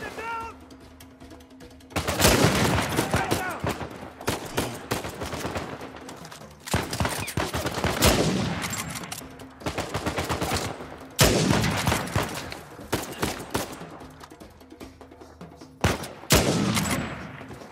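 Bursts of automatic rifle fire and rapid volleys from a firefight in the video game Uncharted 4: A Thief's End, loud and repeated in several clusters over a steady background of game ambience.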